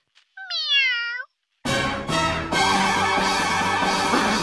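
A single clear, close cat meow sounds on its own, then silence, then music begins.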